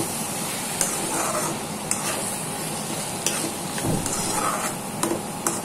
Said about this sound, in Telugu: మూత పెట్టిన తర్వాత బాగా కలుపుకోవాలి.